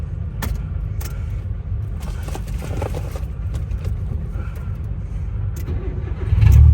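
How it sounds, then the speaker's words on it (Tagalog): A car's engine is started from inside the vehicle in a waiting queue on a road trip from Makati to Iloilo, a steady low rumble swelling louder near the end, with faint rattles and no talk. "And we'll start the car."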